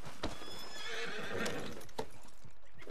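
A horse in Red Dead Redemption 2 walks with steady clip-clop hoofbeats and lets out a clear whinny, sounding close and fairly loud, with no talk over it.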